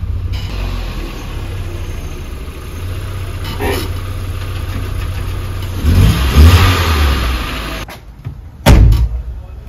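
A 1996 Audi A4 B5 with the 1.8T engine idles loudly up close, then revs in two distinct bursts, with a door-like clunk between them.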